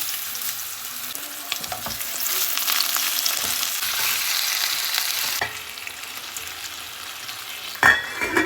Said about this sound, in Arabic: نبدي ناخذ الدجاج مالتنا ونقليه بهذا الزيت حتى ياخذ لون حلو